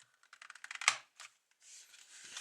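Military-style folding switchblade knives are handled up close, with a quick run of light, sharp clicks followed by a louder snap, then brief rustling and scraping.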